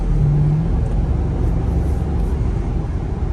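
A 2012 Jeep Grand Cherokee SRT cruises a road at night, a steady low rumble of engine and road noise heard from inside the cabin with no talking.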